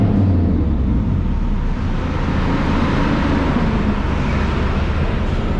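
Deep, continuous exhaust roar from a straight-piped second-generation Mitsubishi Eclipse GSX driving through a tunnel at night, loud and booming with little variation.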